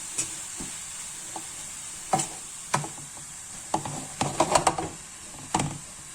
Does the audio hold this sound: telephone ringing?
no